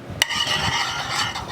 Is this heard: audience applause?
no